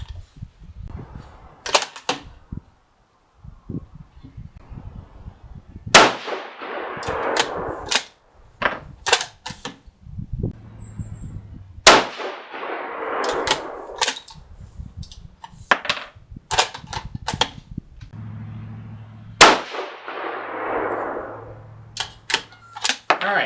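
A 6.5 Creedmoor rifle loaded with StaBall Match powder fires three sharp, separate shots at a few seconds' spacing, each a loud crack with a decaying tail, among quieter clicks and handling noise.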